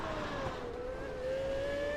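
A dirt race car in iRacing drives with a sustained engine drone whose pitch climbs slowly and steadily, fairly quiet and continuous, with no talk over it.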